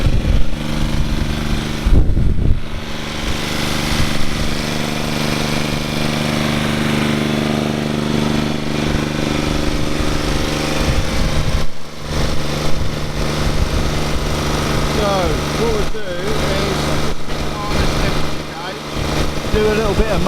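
A tractor mower engine runs steadily after its solenoid was bypassed to reach the starter, a loud close continuous drone with slight surges, with someone talking over it.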